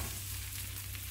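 Chettinad-style adai, a thick lentil pancake, fries on a pan with a steady, soft sizzle and a low constant hum, faint and brief with no talk.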